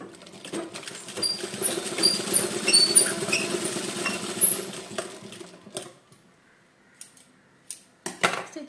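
A sewing machine stitches along the open side of a pillow cover, a rapid buzzing run of needle strokes for several seconds, then stopping, followed by a few short clicks and handling noises.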